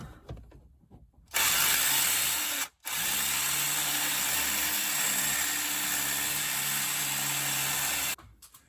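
A power drill widening a hole in an Audi B8 S4 for trailer wiring whines steadily at high speed for several seconds, loud and close, with a brief pause early on before it runs again.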